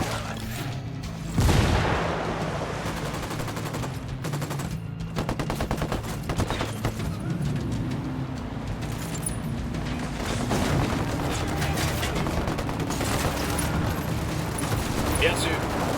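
A grenade bursts in a loud boom amid rattling gunfire and bursts of automatic fire in the Ghost Recon video game, with the fighting continuing steadily and mixed with voices.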